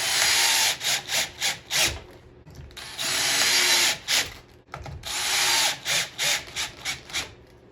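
Power drill driving screws to attach a faceplate to a cherry burl blank, several short whirring bursts and longer runs with pauses between, close and loud with no talking.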